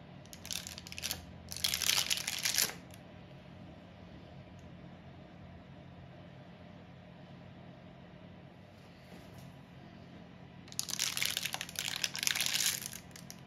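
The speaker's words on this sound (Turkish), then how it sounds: "Buzdolabımda 10 dakika beklettikten sonra hemen yağlı kağıdın üzerinden alıyorum." Chilled pastry-shop-style cookies are lifted off parchment paper, giving two short bursts of close, crisp paper crinkling at the start and near the end, separated by a long quiet stretch.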